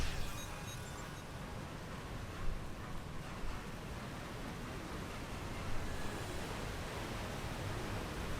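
Constant rushing roar of a waterfall in the video game Star Trek Online, a dense, even wash of falling water with slight swells and no voices.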